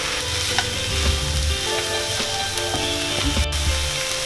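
Kanda poha being stirred in a pan on the gas, a continuous close sizzle with spatula scrapes and soft knocks mixed in.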